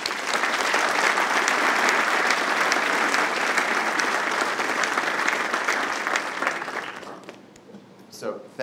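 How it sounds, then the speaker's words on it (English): Audience applause welcomes speaker Pete Singer, a dense, steady wash of many hands clapping at full strength for about seven seconds before fading out. "So please join me in a warm round of applause and a welcome for Pete Singer."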